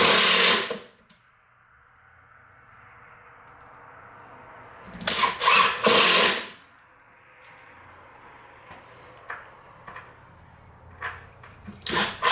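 A power drill drives screws into a base drawer cabinet in two loud, sustained whirring bursts separated by quiet, with a few short, softer blips of the drill and handling noise between them.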